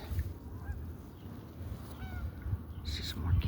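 Geese honk a few times over a low, rumbling outdoor background, with brief calls rising near the end.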